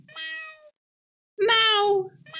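Two drawn-out meows from a cat in a video game, one short and one longer after a pause, close and clear with no other sound between them.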